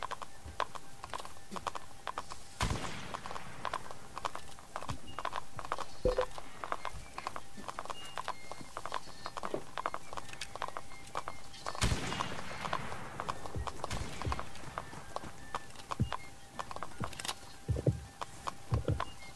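Horse hooves clatter in the Roblox game Blood and Iron, a steady run of clip-clop beats with a few louder thuds, heard alone at moderate volume.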